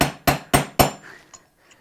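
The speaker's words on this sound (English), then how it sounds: "Give a couple more little whacks." A hammer taps a bearing into a motorcycle wheel hub with four sharp metallic whacks at an even, quick pace. Faint light clinks follow as the ringing fades.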